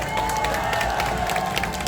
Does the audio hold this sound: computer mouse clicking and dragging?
no